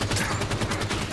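Gunfire in the Halo 5: Guardians Warzone Firefight beta, a fast regular rattle of automatic shots at moderate loudness, continuous through the short moment with no talk.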